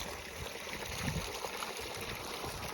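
Water pumped up from a pipe runs along a small channel over scattered farm manure, making a continuous close trickling and gurgling flow with no voices.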